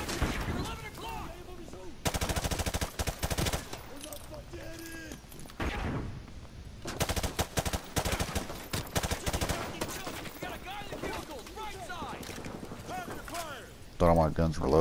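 Gunfire in the Call of Duty Modern Warfare 2 Remastered campaign, with dense automatic bursts and rattling volleys in long stretches, interrupted by brief lulls, while someone talks over it.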